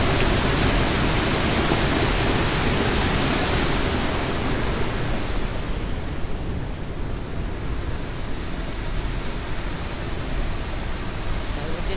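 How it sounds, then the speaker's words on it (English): Loud, steady rush of water pouring down through a canal lock and under a hydro-electric plant building at a state park, a constant broadband roar that eases slightly after the first few seconds. "This pours down here,"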